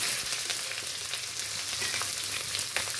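Onions sizzle in hot oil with cinnamon and cardamom in a pan for an Assamese duck curry, a steady close crackling hiss with no voices.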